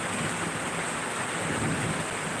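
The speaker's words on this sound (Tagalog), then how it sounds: "Umuulan ngayon dito. Umuulan ang panahon." Steady rain falling, a dense, even hiss with a low rumble beneath it, continuous and close with no voices.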